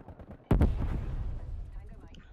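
Gunfire from a TEC9 submachine gun in the video game Black Ops Cold War: one sharp, loud burst that rings out and fades quickly.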